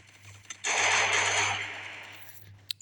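Video-game gunfire erupts in one loud, rapid burst lasting about a second, then fades out over a steady low hum, with a few sharp clicks before and after.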